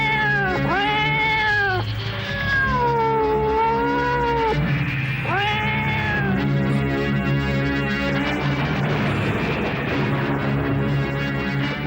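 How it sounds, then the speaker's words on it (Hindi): A cat meows repeatedly in long, wavering, drawn-out cries, loud and close over a steady musical background. "किसी दूसरी बिल्ली की आवाज होगी"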